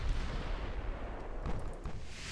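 Warship main guns fire salvos in the naval combat game Ultimate Admiral: Dreadnoughts, a steady rumbling barrage of heavy booms that stays dense and continuous, with sharper reports rising near the middle and toward the end.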